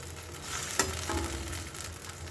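Tomato drops into a hot pan of ginger and green chilli paste frying with panch phoron and a splash of water. A steady crackling sizzle runs throughout, with one sharp clink or splash near the start.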